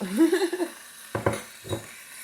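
Zucchini tipped into a pan with avocado oil lands in two or three quick, close clattering thumps after a brief snatch of voice.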